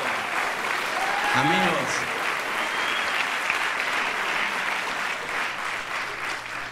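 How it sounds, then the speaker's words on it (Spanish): Audience at a stand-up comedy show applauds loudly and continuously, dense clapping with cheers and a brief voice calling out over it. "Fuerte aplauso, lograron salir de satélite."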